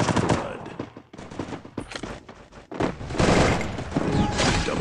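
Gunfire in a shooting video game during a 4v4 match, with rapid automatic bursts and single shots cracking loud and close in clusters, separated by brief gaps.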